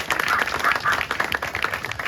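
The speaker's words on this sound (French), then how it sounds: "son travail mérite encore une fois vos applaudissements" An audience at a golf club handover ceremony applauds with steady, dense clapping throughout, moderately loud with no voices over it.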